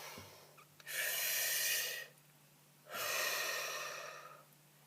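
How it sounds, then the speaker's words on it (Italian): A person takes a slow, deep breath in and then a long breath out, two soft, airy swells of breathing close to the microphone in a quiet room. "Facciamo un bel respiro profondo."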